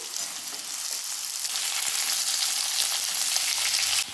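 Carrots and beans hit a pan of frying potatoes, setting off a steady, fairly loud sizzle that holds evenly throughout with a faint scrape near the end and no voices.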